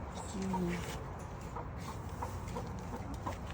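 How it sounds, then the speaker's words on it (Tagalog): A chicken clucks quietly nearby amid low background noise, with a few soft clucks spread across the clip. "May manok."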